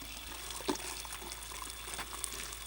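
Dyed cotton lifted out of hot dye water with a spoon, a soft steady trickle and splash of water dripping back into the pot, one small clink near the start, close but quiet, with no voices.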